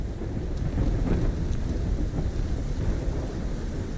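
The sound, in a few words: storm wind and thunder in video game Call of Duty Black Ops 3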